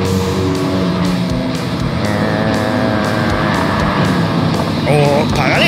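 Race cars in a racing video game roar along in a loud continuous engine drone, with tyre squeal and skidding as one car slides out, while a commentator talks over the action.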